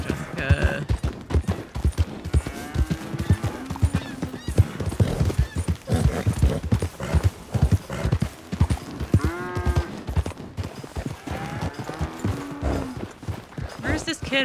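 Horse hooves clip-clop in the Red Dead Redemption 2 video game, a steady walking rhythm running under near-constant conversation between players.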